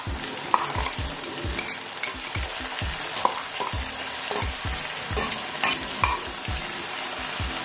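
Spice paste stirred into potatoes and onions frying in a pan for a lentil-dumpling curry, with steady sizzling and repeated scraping strokes of a spoon, close and moderately loud, no talking.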